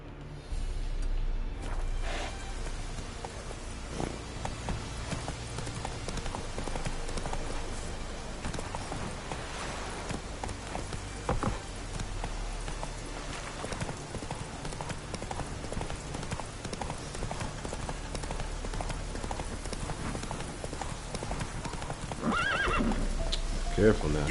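Horse in The Witcher 3 galloping with steady clip-clop hoofbeats and occasional neighs, layered over game ambience and background music, with someone talking throughout.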